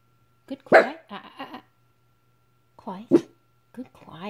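A little dog gives two separate bursts of sharp, close barks and yips indoors, each burst made of several quick barks with quiet gaps between.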